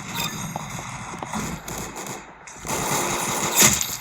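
Rapid gunfire bursts in a Roblox shooter game, clustered crackling shots that come and go in quick runs, moderately loud with no talk over them.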